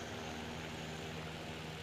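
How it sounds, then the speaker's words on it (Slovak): Ja-1 aircraft in the War Thunder video game, its engine giving a continuous, even propeller drone at steady loudness with no talk over it. "To je moje lietadlo Ja-1."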